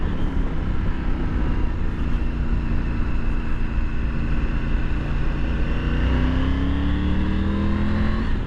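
Triumph Tiger 900 GT Low triple-cylinder motorcycle engine accelerating hard, a loud continuous roar whose pitch climbs steadily through the gears, heard close from the rider's position with rushing wind noise throughout.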